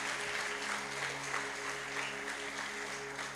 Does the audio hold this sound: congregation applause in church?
yes